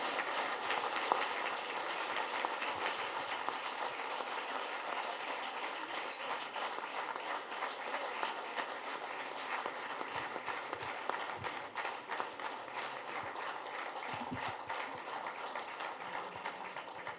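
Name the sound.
audience standing and applauding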